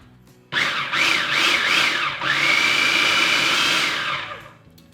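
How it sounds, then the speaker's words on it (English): Blender whirring through three bananas, a teaspoon of vanilla extract and honey, starting abruptly with a loud motor roar, pitch pulsing briefly, then steadying into a high continuous whine before winding down, no talking. "Now let's just blend this until smooth."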